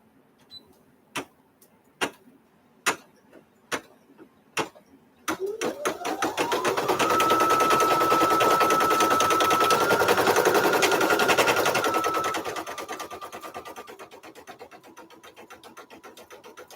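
An embroidery machine stitching a bunny design: a few single slow ticks first, then a rapid, loud mechanical clatter with a whirring motor hum that holds steady, then eases to a quieter steady stitching.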